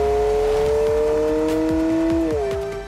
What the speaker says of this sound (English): The system initiates early downshifts in response to braking, raising engine RPM in readiness for acceleration.